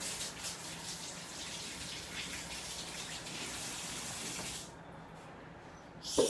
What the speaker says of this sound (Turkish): Şimdi ellerimi yıkıyorum.